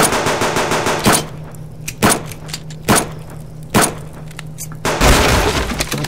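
Rifle shots in the video game Subsistence: five sharp, loud cracks at roughly one-second intervals over a steady mechanical hum, the last followed by a burst of heavier noise.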